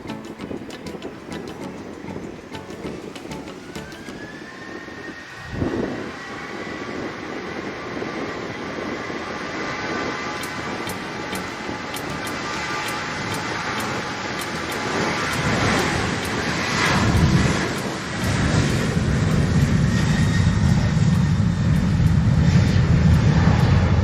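An American Airlines jet rolls for takeoff from runway 07 at Montego Bay, Jamaica, its engine roar building steadily from a distant rumble into a loud, sustained whine and rush that swells near the end.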